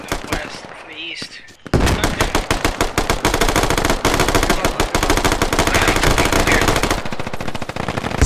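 Sustained rapid automatic gunfire during a large military assault on a fortified base in a tactical shooter game, dense continuous bursts close and loud after a brief quieter opening with voices.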